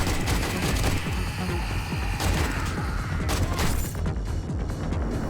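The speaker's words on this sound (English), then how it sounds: "Let's thin these guys out with the AK" Sustained AK rifle fire in the zombie survival game 7 Days to Die, Alpha 19, with rapid overlapping bursts and a dense roar of shots running nearly unbroken from start to finish, loud and close.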